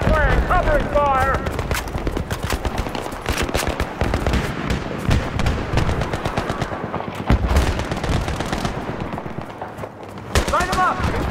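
Battlefield 3 combat fire during a covering-fire push: dense bursts of machine-gun and rifle shots crack close and loud in rapid volleys, with soldiers shouting amid the gunfire.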